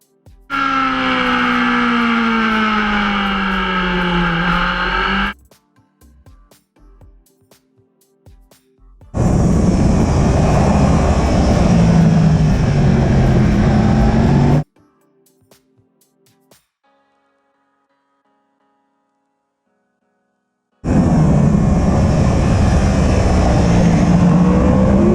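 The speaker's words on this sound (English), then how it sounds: "We stop the braking and we need to start using the gas." A racing motorbike on a track roars loudly as the rider releases the brake and opens the throttle, engine note climbing in pitch, in three sustained bursts separated by near silence.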